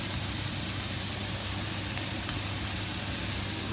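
Peppers sizzling in a frying pan for a lamb and rice dish, a steady dense hiss of hot oil, even and continuous throughout with a couple of faint ticks, no talking.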